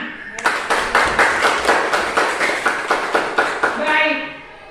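Children in a classroom clap their hands together in a steady, rhythmic run of about a dozen sharp claps, close and fairly loud, with young voices mixed in.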